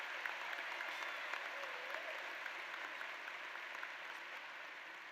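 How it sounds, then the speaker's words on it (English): Graduation ceremony audience breaking into applause, a dense, even wash of many hands clapping that sounds distant and fairly quiet, sustained without a break and no talking over it. "So let's take a moment to give them a big round of applause."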